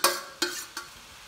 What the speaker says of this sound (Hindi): अब सारे मटेरियल को मिक्स करेंगे और आलू को।